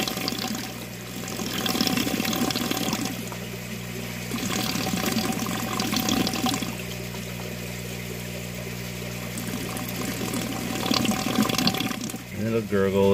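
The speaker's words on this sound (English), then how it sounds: "And it'll gurgle and it'll suck a couple times as it pulls enough air in." A U-shaped siphon tube draining water, gurgling and sucking in air in repeated bursts, with a continuous watery flow throughout and a sharper gulping change near the end; a voice is faintly present in the background.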